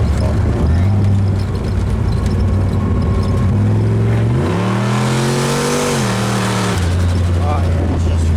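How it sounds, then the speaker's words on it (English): A car doing a rolling burnout at about 45 mph, its engine roaring loud and close with the pitch climbing and falling as it revs, under a steady rush of tire and road noise. "is just roasting the tires right now"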